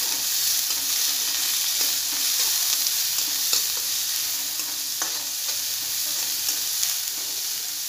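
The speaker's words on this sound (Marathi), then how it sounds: "जो आपण 2 कांदे बारीक चिरलेले आहेत ते कांदा टाकून आपल्याला व्यवस्थित असं फ्राय करून घ्यायचा आहे" Two finely chopped onions fry in hot oil in a pan, a steady close sizzle with light stirring scrapes throughout and no speech.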